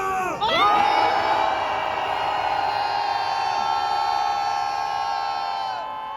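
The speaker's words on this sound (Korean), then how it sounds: "전방을 향해 함성 5초간 발사하겠습니다." A rally crowd at a train station plaza lets out a sustained roar of shouting and cheering for about five seconds, loud and continuous, rising sharply at the start and fading near the end.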